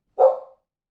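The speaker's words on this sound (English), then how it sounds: "Excuse the dog, barking to be out" A single short dog bark rings out indoors at close range, one sharp bow-wow that fades quickly into silence.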